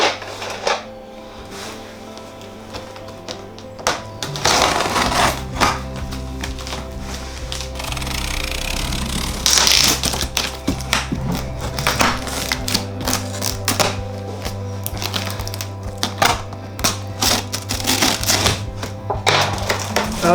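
Scissors cut through packing tape on a cardboard parcel in a steady run of close crackling snips and tearing scrapes, with a low hum underneath and no talking.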